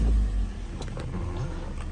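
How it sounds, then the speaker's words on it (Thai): A 2018 Toyota Altis 1.6G sedan starts by push button: a brief low crank and rumble at the start settles into a steady, close idle with light mechanical noise. "เหยียบเบรกนะคะกดปุ่มคุณสตาร์ทกันเลยนะคะ"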